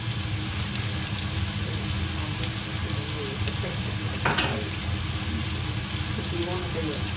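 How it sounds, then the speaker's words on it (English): Onions frying in a pan for gluten-free bangers and mash, a dense continuous sizzle with a brief scrape of stirring partway through. "Now we're just going to get some colour into these onions."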